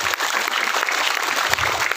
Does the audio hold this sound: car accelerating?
no